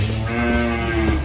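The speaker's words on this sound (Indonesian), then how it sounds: "sapi berikutnya betina super limosin" A young female Limousin cow about six months old gives one long, loud, close moo, deep and steady, with a rough harmonic tone that rises slightly before fading.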